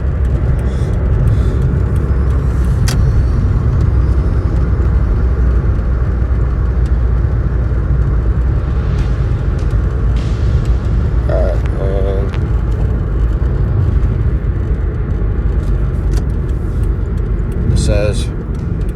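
A car drives along, its engine and road noise forming a loud, steady low rumble for the whole stretch, with brief faint sounds and voices over it near the end.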